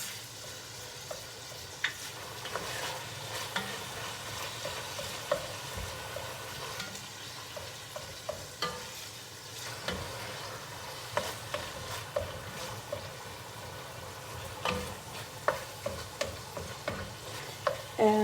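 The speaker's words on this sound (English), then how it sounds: "I take my spoon and I cut the beef up because I want it to be into small chunks" A spoon stirs and breaks up ground beef in a pot, giving soft, irregular scraping clicks over a low, steady sizzle, quiet and close throughout.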